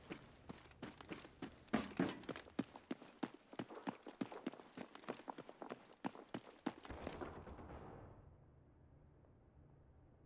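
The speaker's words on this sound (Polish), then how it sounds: "Słyszałem jak tu ktoś biegał." Someone running in the video game Delta Force: Hawk Ops, with quick, evenly spaced footfalls thudding for about seven seconds before fading into near silence.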